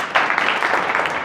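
Brief burst of loud, close audience clapping at an RCM business team meeting, a dense, even patter lasting just over a second.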